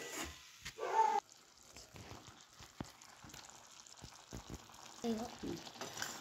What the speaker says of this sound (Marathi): हे ना गुळाला आपण वितळून घेऊया